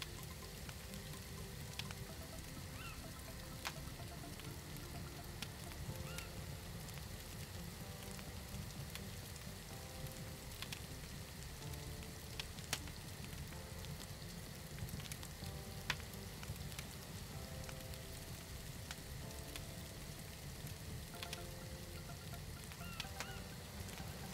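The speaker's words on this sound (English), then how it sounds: "There's that noticeable sound change, letting you know the meat is now cooking again." Meat cooking over a fire in the survival game SCUM v0.6, a quiet, continuous sizzling hiss with scattered faint crackles and pops, steady and unbroken throughout with no voices.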